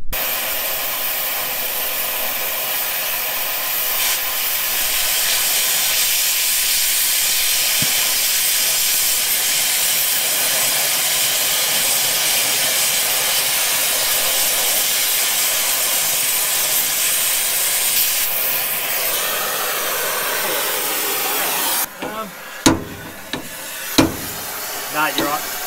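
A gas axe torch roars in a long, loud, steady hiss while cutting welded bolts off a paddock trailer, then stops abruptly and is followed by a few sharp metallic knocks.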